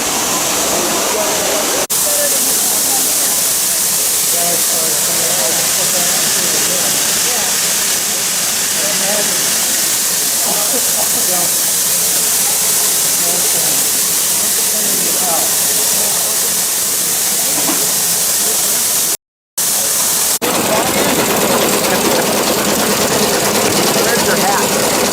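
Buckley steam engine housed inside a building runs with a continuous loud hiss of steam and a steady mechanical drone, rhythmic texture throughout, with a brief dropout near the end.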